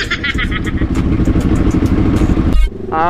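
A Kawasaki Ninja 400 motorcycle engine with a clutch issue roars close by, revving hard and climbing steadily, then cuts briefly before surging again.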